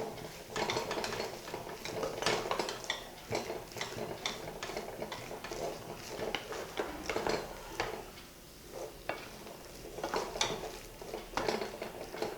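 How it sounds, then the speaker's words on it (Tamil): A spoon stirs potato masala for rava masala dosa in a pot, making repeated close metallic clinks and scrapes in an uneven rhythm, with no voices. "இது நல்லா கிளறிட்டு ஒரு 10 மினிட்ஸ் சிம்மில் வச்சு விட்றலாம்."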